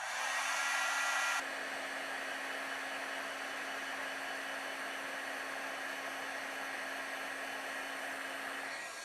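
A heat tool melts embossing powder on a wood grain card panel, a loud steady blowing whir that drops slightly in pitch after the first second and then holds evenly, close up.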